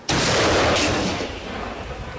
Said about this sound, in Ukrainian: Кожен день стрільба, постріли, робота. Постріл!